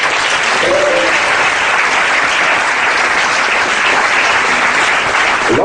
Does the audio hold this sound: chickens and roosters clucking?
no